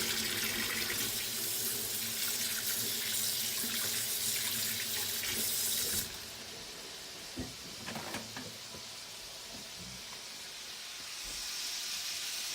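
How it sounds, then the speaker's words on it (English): Running water from a kitchen tap pours steadily as hands are washed, a strong hiss that drops to a softer flow midway, with faint handling clatter, during cooking of sliders. "I'm gonna wash my hands now"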